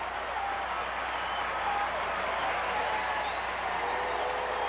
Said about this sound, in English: the crowd shouting Moose, much as Yankee fans did years ago for Bill Skowron